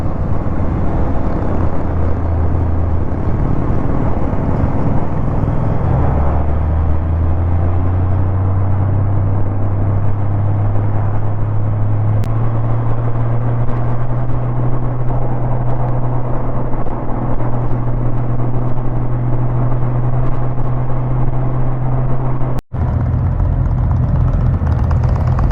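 Motorcycles riding together on an open road, a loud continuous engine drone with wind rush, the pitch sliding up as the bike accelerates and then holding steady at cruising speed.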